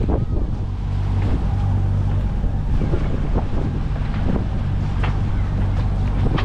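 Strong wind buffets the microphone at sea while rounding a point in a small rowing dinghy, a steady loud broadband rush with low rumbling gusts throughout and no voices.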